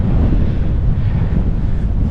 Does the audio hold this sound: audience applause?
no